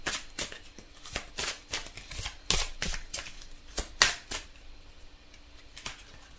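Tarot cards being shuffled by hand, a steady series of crisp riffling and slapping bursts close by, repeating for several seconds with short pauses between.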